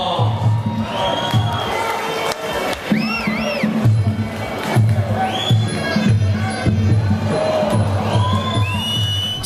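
A fight crowd roars loud and sustained in an arena, with shouts and whistles rising over the dense noise and voices talking within it.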